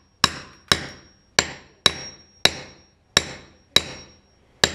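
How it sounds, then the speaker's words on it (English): Ceramic floor tile being broken up and removed, with eight loud, sharp hammer-like impacts at a steady rhythm, each ringing briefly with a bright metallic edge before fading, close and loud with no talking. "Removing tile is really loud."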